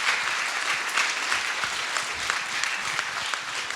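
An audience at a human rights conference claps steadily, a dense continuous applause sustained from start to finish without pause.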